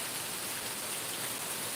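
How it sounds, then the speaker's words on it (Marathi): Heavy monsoon rain pours down in Amboli in the Konkan hills, a dense, even hiss of falling water that fills the whole moment with no voices. "जोरदार पाऊस आहे"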